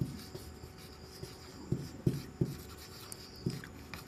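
Writing during a chemistry lecture on aromatic compounds: short, scratchy strokes come in small bursts with brief pauses, close and clear, with no talking over them.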